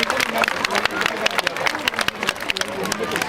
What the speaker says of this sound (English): Can we clap for them also